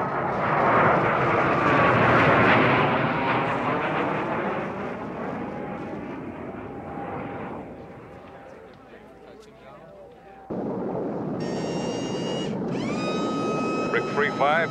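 An aircraft makes a high-speed pass along a runway with a loud, roaring jet or engine rush that swells and then fades. Voices talk over it, and a brief whine and electronic tones follow.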